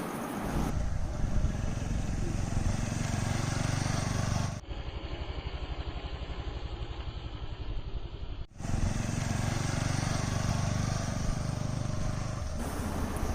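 A TVS Apache RTR 160 4V BS6 motorcycle engine drones steadily up close while riding, briefly dropping to a lower, rougher rumble midway before returning to full running noise.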